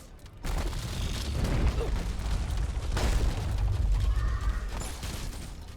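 Grenades go off in Deep Rock Galactic during a bug hunt, with heavy low booms and rumbling bursts that roll on continuously for several seconds.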